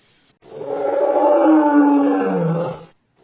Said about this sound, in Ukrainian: А це лев.